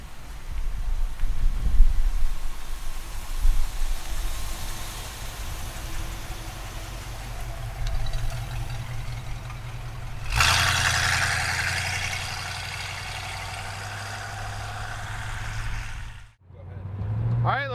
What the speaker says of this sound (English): let's go for a ride in this 65 Mustang convertible